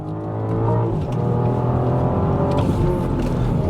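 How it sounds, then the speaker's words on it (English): A BMW X7 SUV engine roaring loudly during a launch as it accelerates hard, the pitch climbing and dropping as it shifts through gears. "Can you listen to the engine note?"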